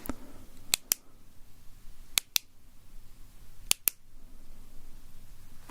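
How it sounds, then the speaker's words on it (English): Sharp ASMR clicks in three close pairs, crisp and near in a quiet room, each pair separated by about a second and a half of near silence. "I'm going to produce a number of clicking sounds."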